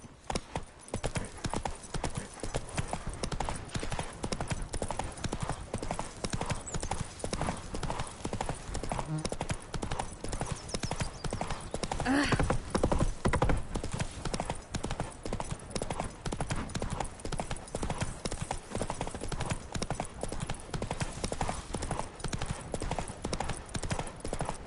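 Hooves of Geralt's horse Roach pound in a steady, continuous clip-clop gallop in The Witcher video game, loud and close throughout, with faint game ambience and a brief murmur of voices partway through.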